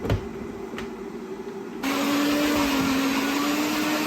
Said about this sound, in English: Put it in a blender. Seal that up. Okay, blend the first step